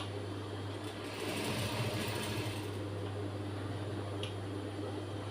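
A sewing machine runs continuously while stitching a second seam over an earlier one on a blouse, giving a steady close mechanical hum with no breaks.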